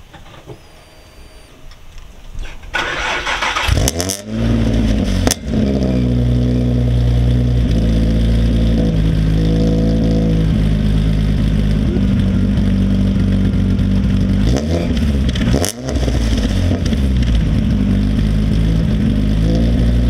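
A modified Mercedes car engine cranking, catching and then idling loudly up close, with a couple of sharp revs as it settles into a steady, rumbling idle.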